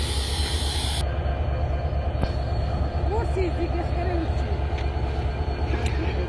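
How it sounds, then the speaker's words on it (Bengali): The Madhumati Intercity Express from Rajshahi to Dhaka rolls through a station with a steady rumble of wheels, faint squealing tones and a brief hiss at the start, while a voice talks over it. "এই মাত্র দেখতে পাচ্ছেন আপনারা মধুমতি আন্তনগর এক্সপ্রেস"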